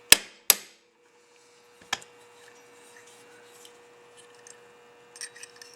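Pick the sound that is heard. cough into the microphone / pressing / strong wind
pressing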